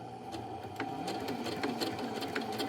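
A sewing machine stitches a 3/8 inch seam through fabric, a continuous close mechanical whir with rapid needle ticking, broken by small clicks and shifts as the fabric is fed.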